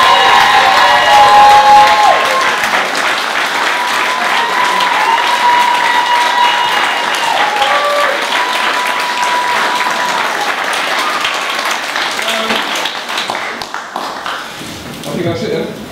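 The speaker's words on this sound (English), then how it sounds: "please give a big round of applause to these amazing children" Audience applause and cheering for the children in a pantomime production of Mother Goose, a loud sustained crowd clapping with shouts, a voice heard over it, tapering off toward the end.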